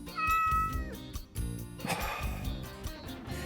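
A cat named Lucifer lets out several loud, close meows and yowls in quick succession, with drawn-out wailing cries and short breaks between calls, heard indoors with no speech.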